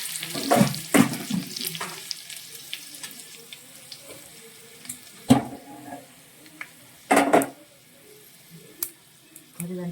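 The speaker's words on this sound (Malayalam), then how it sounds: "ഇത് വേണം കുറച്ച് ഉണക്കമുളകും കൂടി ഇട്ട് കൊടുക്കാം" Dried red chillies fry in hot oil with mustard seeds, sending out scattered crackles and short sizzling bursts that rise and fall at close range, with no talking.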